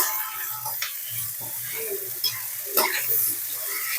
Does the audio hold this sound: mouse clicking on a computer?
no